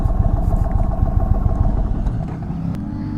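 A 2026 Indian Chief Vintage motorcycle idles nearby with a steady, low, throbbing engine pulse that eases slightly toward the end.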